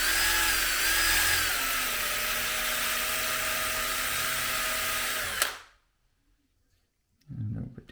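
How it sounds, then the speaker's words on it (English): A power drill with an 8mm bit whines steadily as it bores into wood, then stops abruptly, followed by silence and a brief clatter. "Got me 8mm drill bit."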